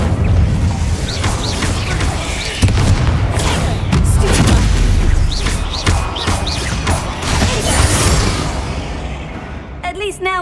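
In Hogwarts Legacy an Incendio fire spell goes off with heavy booming rumbles and crackling bursts that stay loud and dense throughout, with short tonal game effects mixed in.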